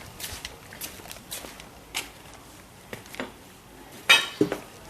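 Standard metal socket set being handled, with scattered light metallic clinks and taps spread across the clip and a sharper cluster of clatter near the end.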